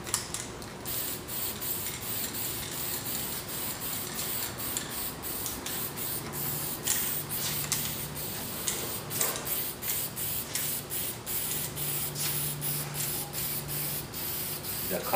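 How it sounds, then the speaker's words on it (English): Spray paint in a reddish maple color hissing steadily onto thirsty bare wood for a faux stone pedestal, a continuous close airy spray with brief pauses and small clicks of the can throughout. "We spray now, it's called the reddish maple."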